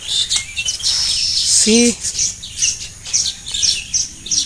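Weaver birds chirp around their nests in a palm tree, a busy run of bright, repeated tweets close by, with a single spoken word briefly heard beneath them.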